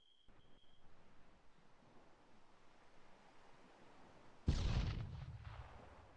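A frag grenade blast in the military shooter game Squad, one sudden loud boom near the end that rolls off into a decaying rumble after several seconds of faint ambient hiss and a brief tone.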